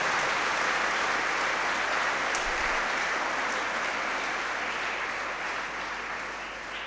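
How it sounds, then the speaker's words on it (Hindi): A church congregation at Sunday Mass claps steadily, broad and sustained applause filling the hall and slowly tapering toward the end, with no voices over it. "उनके लिए जोरदार ताली जाए, जोरदार ताली जाए"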